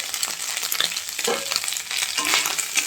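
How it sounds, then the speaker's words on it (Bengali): Dried kachki fish fries with salt and turmeric in a pan, giving a steady, dense sizzle with occasional stirring scrapes and no voices. "ভালো করে ভাজা হোক।"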